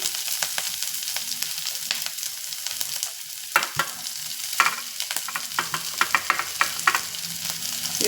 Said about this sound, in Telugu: తాలింపు బాగా వేగిపోయింది